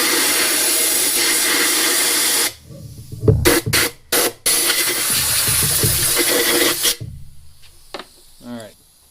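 Compressed air blasting through a Harbor Freight powder coating gun to clear it out: a loud, steady hiss that stops abruptly, followed by several short bursts and a longer final blow.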